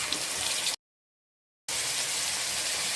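Vegetables cook in a hot pan with onion, green chilli, curry leaves, tomato, turmeric and salt. They give off a steady, broadband sizzle that cuts out completely for a moment and then resumes at the same level.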